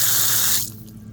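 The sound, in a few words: repaired outdoor faucet running water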